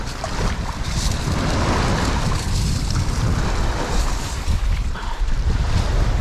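Steady rush of waves and water close by over a stony seabed, mixed with buffeting wind noise on the microphone, continuous and fairly loud throughout.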